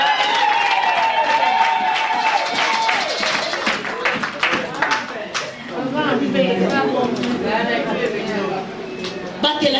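A church congregation applauds and cheers in a continuous burst of clapping during a French-language worship service, with voices and chatter mixed in throughout.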